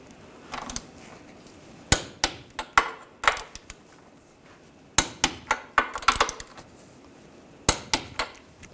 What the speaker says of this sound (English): Now torque these nuts to 73 foot-pounds.